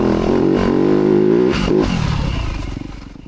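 A 2025 Yamaha YZ250F dirt bike climbs a small hill in third gear, its four-stroke engine loud and close, holding a steady drone that rises briefly and then tapers off as it eases toward the end.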